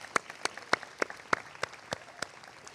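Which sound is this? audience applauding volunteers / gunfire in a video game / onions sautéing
audience applauding volunteers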